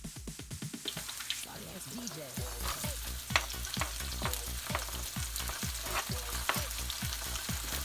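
Macaroni stir-fried with garlic and chili in a pan gives a bright sizzle broken by a rapid, regular run of scraping stirs, close and busy from start to finish.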